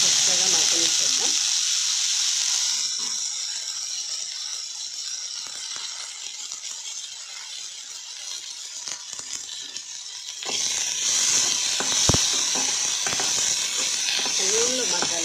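Okra pieces frying in oil, with a loud, steady hiss and sizzle throughout, quieter in the middle stretch, and a few faint scraping sounds.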